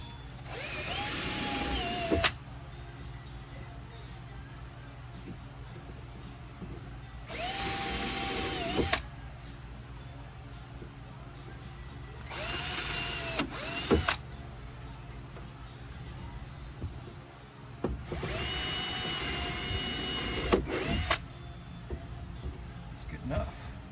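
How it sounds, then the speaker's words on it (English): A power drill whines in four separate bursts of a few seconds each, pre-drilling holes close by, with quiet gaps and a faint room hum in between. "pre-drill in all my holes, just don't want any issues."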